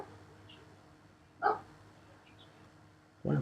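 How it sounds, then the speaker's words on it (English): A dog barks twice in short, separate bursts, one midway and one at the end, fairly close against a quiet room with no talking. "One of my videos would not be complete without having a dog barking in it."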